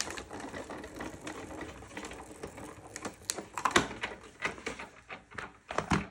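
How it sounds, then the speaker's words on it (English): A 9-inch Sizzix Big Shot Plus die-cutting machine being cranked by hand, giving close, quiet clicking and ratcheting rattles with a few sharper knocks as the plates roll through. "I'm gonna roll it through our Sizzix Big Shot Plus"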